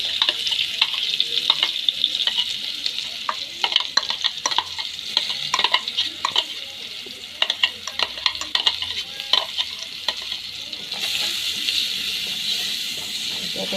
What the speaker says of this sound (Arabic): هنزل بقى بالبصلايه كده اشوحها